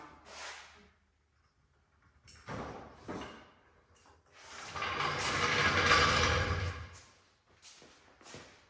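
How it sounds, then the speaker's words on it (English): A 2021 Cub Cadet Ultimate ZT1 zero turn mower is let down on a lift, with a series of mechanical clanks, ratcheting clicks and a longer grinding, sliding rumble in the middle, close by and moderately loud. "I'll go ahead and lower the mower down."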